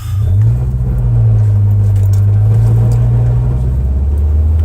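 A car engine drones loud and close through a rough, throaty muffler, holding a low steady rumble with a slight rise early on.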